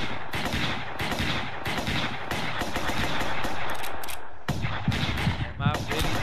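Rapid bursts of video game gunfire, dense automatic shots crackling almost continuously, loud and close, with a voice speaking briefly over it.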